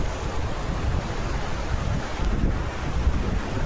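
Strong wind buffets the microphone at Gobardhanpur sea beach in West Bengal, a steady rushing roar with the low wash of surf blended underneath and no other sounds.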